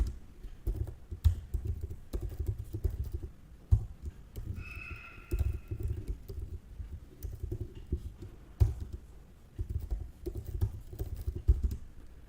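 Keys on a computer keyboard being typed steadily while code is written, a soft continuous patter of clicks at close range with brief pauses, heard alone with no talking.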